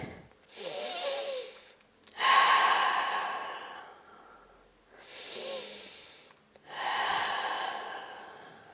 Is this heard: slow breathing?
yes